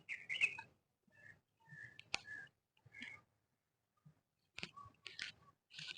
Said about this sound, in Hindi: दरख्तों पर से चिड़ियों की चहचहाने की आवाज आ रही है, आप भी सुन रहे होंगे